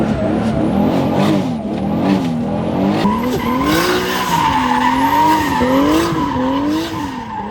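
A 600HP Nissan 240SX drifts at full throttle, its engine wailing and rising and falling in pitch over continuous loud tire squeal and skidding, with no talk.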